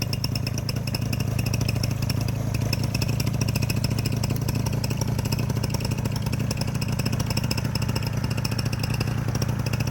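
A Fresh Breeze paramotor engine runs steadily and loudly close by for the whole stretch, a continuous throaty drone with a buzzing propeller hum and no pause.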